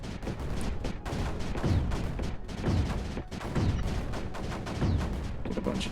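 Mortars fire repeatedly in the video game Creeper World 4, a steady run of thudding launches and booms recurring every second or so under a dense layer of game noise.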